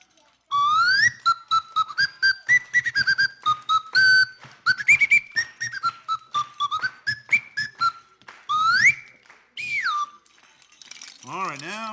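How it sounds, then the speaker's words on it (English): Slide whistle blown in quick bursts, its pitch sliding up and down in wavering runs, with rapid chopped notes alongside and a final fast falling wobble, loud and alone. "one of my most favorite whistles is the slide whistle"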